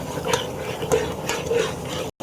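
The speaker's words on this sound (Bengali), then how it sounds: "মশলাটা নাড়িয়ে নিব" A spoon stirs and scrapes spice paste with turmeric and salt in a pan for a cauliflower and fish curry, producing repeated close scraping strokes over a soft frying sizzle.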